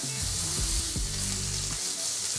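Steak sears in a hot pan with a steady bright sizzle, while a few low clunks and scrapes of the pan or utensils sound close by.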